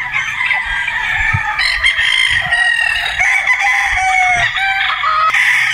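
A Boston Roundhead gamefowl rooster crows loudly nearby in long, drawn-out calls, with other fowl clucking and crowing around it and no speech.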